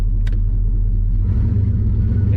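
LS-swapped Firebird V8 running with a newly fitted exhaust and fiberglass-packed mufflers, a loud, deep, lumpy idle rumble close by that rises slightly partway through, with no talk over it.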